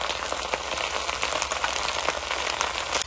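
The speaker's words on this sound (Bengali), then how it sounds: "সুন্দর ভাজা হয়েছে আমার শাকটা" Taro stolon greens fry in a pan with salt and a pinch of turmeric, giving a steady, dense crackling sizzle like light rain, with small pops scattered throughout and a quieter moment at the very end.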